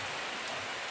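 Heavy rain pours steadily on a pig farm in Jamaica, a dense, even hiss of drops that carries unbroken through the whole moment with no voices.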